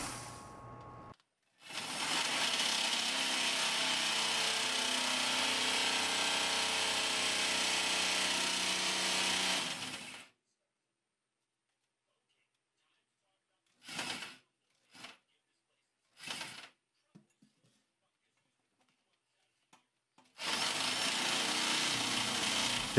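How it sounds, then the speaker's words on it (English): A step drill bit grinds steadily through oiled stainless steel for several seconds, stops, then gives a few short bursts before running continuously again, loud and close. "I applied oil often while drilling and took my time, letting the bit do the work without forcing it."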